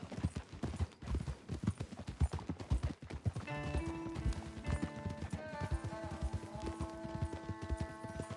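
Horse hooves gallop across the ground in Red Dead Redemption 2, a rapid rhythmic clip-clop close by that continues as a musical score rises beneath it partway through.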